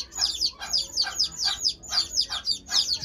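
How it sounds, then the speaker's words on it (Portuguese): Japanese silkie chick peeping in a nest, a steady run of about ten loud, high, shrill cheeps repeating at an even quick rhythm, close and with no talking over them. "Olha a pia dele, escutem."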